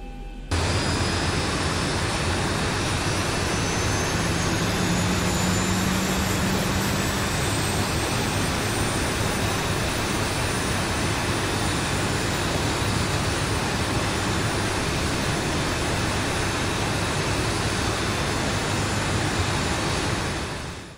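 A Boeing 737NG jet engine spins up from a cold, dark start, producing a loud, continuous roaring whine that holds steady for about twenty seconds with a faint rising tone early on and no talking.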